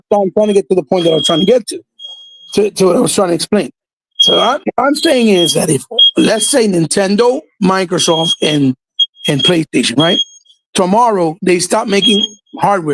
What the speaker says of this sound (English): That's my alarm in my home. The fire alarm.